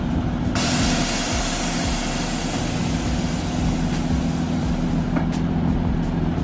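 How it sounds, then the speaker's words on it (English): A G37 car's air suspension airing out through an air lift controller, a loud steady hiss of escaping air held for several seconds over a low idling rumble. "Let me show you how I air out my car with the air lift controller"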